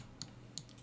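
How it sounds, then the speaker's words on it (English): Keystrokes on a mechanical keyboard, three sharp separate clicks spaced irregularly, close and fairly quiet against a low background hum. "mechanical keyboards are loud"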